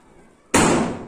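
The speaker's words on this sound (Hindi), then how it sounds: "बाहर कितने पटाखों की आवाज आ रही है।" A single loud Diwali firecracker bursts outside after a quiet moment. The sharp bang is followed by a lingering, decaying rumble.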